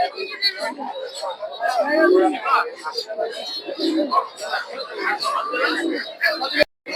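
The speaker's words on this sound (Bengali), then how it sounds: "এগুলো হচ্ছে ম্যাকপাই কবুতর" Magpie pigeons coo softly amid a busy Bangladeshi village market crowd, their low calls mixed into steady chatter and background voices.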